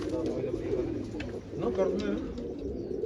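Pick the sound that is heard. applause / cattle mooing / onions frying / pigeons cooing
pigeons cooing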